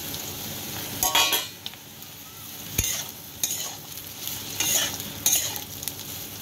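Boiled soybean chunks frying and stirred in a kadai, with a steady light sizzle under repeated scraping strokes of a spoon against the pan, close and moderately quiet.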